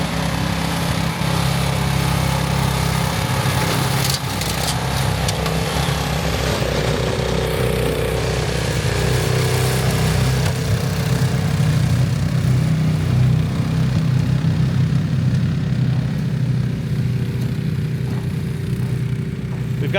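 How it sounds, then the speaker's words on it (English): A Rammy 120 ATV Pro snowblower with a 420cc engine runs on a Polaris Sportsman 570 ATV, giving a loud, steady engine drone with a low rumble that holds without a break for the whole stretch. "this is the Ramy 120 ATV Pro snowblower with the 420cc engine"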